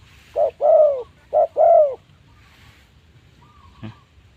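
Spotted dove (large Thai turtle dove) cooing in distinct close phrases, two paired coo bursts then a fainter call, over a soft low hum with no talk.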